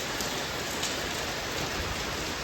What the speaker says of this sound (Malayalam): ഫുള്ള് മഴയാണ്.